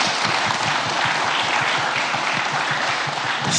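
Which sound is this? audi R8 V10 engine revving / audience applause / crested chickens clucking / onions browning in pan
audience applause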